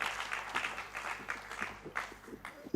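Audience applause at a Uganda Vision Zero conference on workplace health, a faint, steady patter of clapping heard from across a hall, continuous and fairly even throughout.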